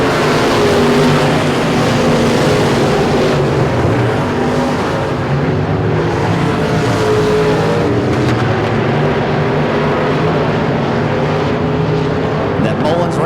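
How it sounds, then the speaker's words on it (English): A modified V8 race car roars loudly and continuously at Super Bee Speedway during a season-opener race, engine noise dense and sustained, with an announcer's voice running over it. "Engine power built by Chad Mullins, barking like a big dog"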